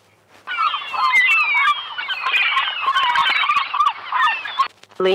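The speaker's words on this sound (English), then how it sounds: "Seagull." A seagull calling, loud and close, in a long continuous run of shrill, overlapping cries lasting several seconds with no talking.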